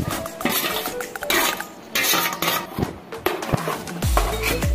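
Golden fried onions tipped into a pot of pepper chicken gravy, close loud clatter and scraping of a metal utensil against the pot in repeated knocks and clinks, with a brief low thud near the end.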